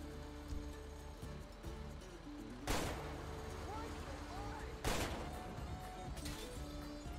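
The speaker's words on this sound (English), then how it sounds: "We got to pull out our pistol." A pistol in the OCRP game fires two sharp shots a couple of seconds apart, loud against a busy backdrop of game ambience and music.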